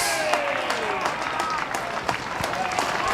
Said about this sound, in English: Ben Howlett comes off, gets clapped off by the Essendon fans here at North Ballarat